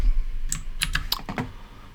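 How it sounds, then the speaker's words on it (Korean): Keys on a computer keyboard clack in a quick irregular run of sharp close taps during a programming lesson, with no voices over them. "여러분들은 타자를 치시고"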